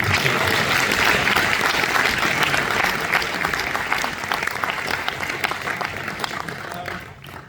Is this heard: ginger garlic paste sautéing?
no